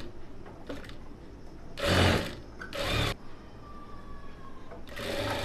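Sewing machine stitching along the folded front piece of a blouse, steady whirring runs with brief louder bursts as the needle speeds up, close by.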